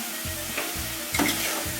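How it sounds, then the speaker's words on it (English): Close, continuous sizzling of stuffed peppers frying in a hot pan, with a few soft stirring scrapes breaking through. "And this is nicely frying."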